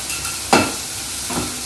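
Ingredients for coriander mango rice sauté in a pan under a continuous soft sizzle, broken by two scraping stirs, the first sharper and louder.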